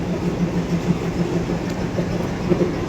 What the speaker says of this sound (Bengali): এই হলো বন্দে ভারত এক্সপ্রেস